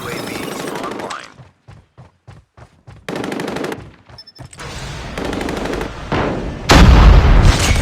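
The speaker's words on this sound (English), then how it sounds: "Sentry gun deployed." Automatic sentry gun fire in the Call of Duty Mobile game, loud rapid bursts broken by short gaps, with game voice announcements and other effects around it.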